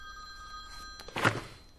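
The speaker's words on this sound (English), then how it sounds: "Mademoiselle Stewart, no phones in class." A phone rings in a classroom, one short ringing burst rising out of steady background tone and a soft thud, with no talk.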